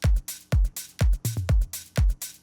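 Electronic hi-hats ride over a pounding techno kick in a melodic techno track, crisp bright ticks falling between steady booming beats about twice a second, with no voices.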